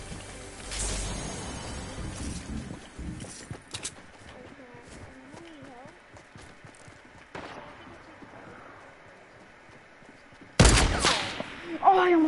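Video game gunfire in sparse, scattered shots amid background game noise and speech, ending in a loud close burst of firing.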